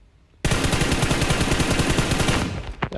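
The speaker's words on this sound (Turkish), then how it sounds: "İlk önce 10 mermiyi atıyoruz." A burst of rifle fire in PUBG Mobile erupts abruptly, a rapid, even string of loud close shots lasting about two seconds before cutting off.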